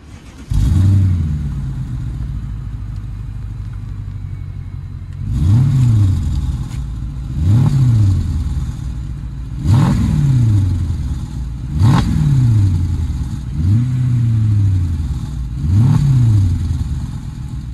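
A Mercedes CLS 500 W219 drives off and accelerates hard, with loud, close engine revs that rise and fall through about six distinct gear-change sweeps after a steady idle.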